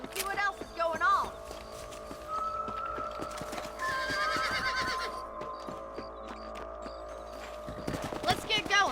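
Horses in the Red Dead Redemption video game, with a whinny and hooves clip-clopping over steady game ambience and music, plus a louder burst of hoofbeats near the end.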